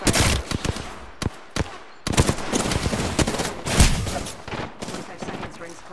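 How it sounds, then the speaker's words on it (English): Rapid automatic gunfire in the battle royale game Apex Legends, dense loud bursts with short pauses, close and continuous over about six seconds, with game sounds layered underneath. "Taking fire, boss. Opening fire."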